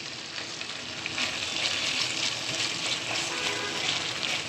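Chicken fries with ginger and garlic paste, cardamom, cinnamon, bay leaf and chili for a cabbage bhaji, giving a steady loud sizzle with stirring scrapes throughout.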